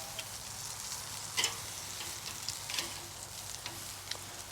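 Venison loins sear on a Weber kettle grill with a Slow 'N Sear insert, giving a steady close sizzle and crackle with a few sharper pops when the meat is flipped.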